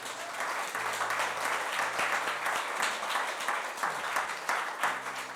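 A church congregation applauding, a dense, continuous wash of clapping from many hands that holds steady at full strength from start to finish.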